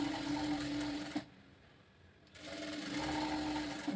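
Sewing machine stitching a half-inch seam on a size 32 princess-cut blouse, a steady close whirring hum that stops for about a second before starting up again.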